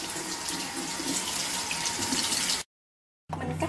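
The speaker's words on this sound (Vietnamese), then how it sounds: "Xong rồi mình đem rửa cho nó sạch." Winter melon pieces rinsed under running tap water, a steady close hiss and splash that stops abruptly for a moment before the flow resumes.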